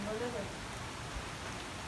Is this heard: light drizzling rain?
yes